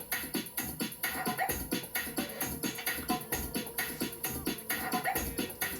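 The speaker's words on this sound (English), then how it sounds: "Here we have these ridiculous looped drums that sound like this." Looped drum pattern with a light scratch effect, repeating steadily in a dense, loud mix with regular percussive hits throughout and no talking.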